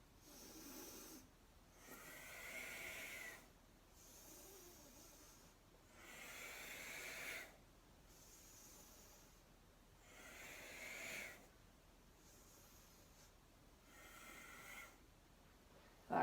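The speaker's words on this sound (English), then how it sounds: "So you can just hear my breath for a second." Heavy, rhythmic breathing during yoga elbow-to-knee crunches: slow, breathy exhales in regular waves every two to three seconds, close and quiet, with no talking.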